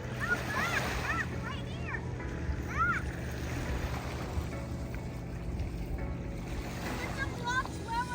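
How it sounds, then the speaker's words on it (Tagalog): A boat's engine drones on a lake amid lapping waves and splashes, with people talking and calling out nearby. "There's a boat coming. Right there."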